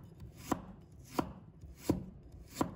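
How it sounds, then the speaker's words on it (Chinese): Four evenly spaced knife strokes slicing fresh ginger into thin slices, each a crisp thud on the cutting board, close and clear with no talking. "把它切成薄片"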